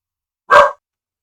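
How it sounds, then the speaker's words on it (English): A single dog bark, short and fairly loud, standing alone against silence. "dealing with the barking dog for a second there"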